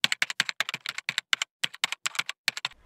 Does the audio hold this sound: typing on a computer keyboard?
yes